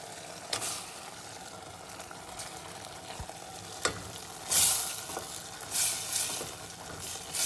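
Tomatoes and mixed colored peppers cooking down in a pan for Moroccan zaalouk, a low steady sizzle broken by spoon scrapes and stirring clatters, with louder bursts of spattering toward the end.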